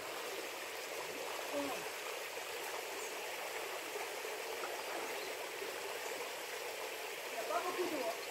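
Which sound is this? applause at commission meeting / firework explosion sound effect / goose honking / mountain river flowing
mountain river flowing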